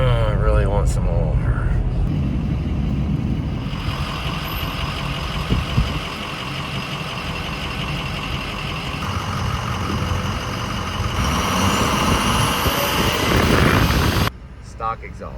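An old dually truck with a stock exhaust rumbles steadily as it drives through a snowstorm, a continuous engine drone under ongoing talk, rising slightly toward the end.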